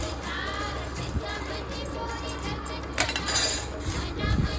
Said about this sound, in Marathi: आता मिरची टाकायची मिक्सरच्या भांड्यात आपल्याला.